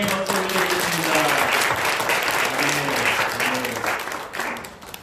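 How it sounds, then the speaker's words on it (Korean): A church congregation claps in sustained applause at the close of a New Year's Eve prayer, steady and dense throughout with a few voices murmuring underneath. "우리 하나님께 영광의 박수 올려드리겠습니다."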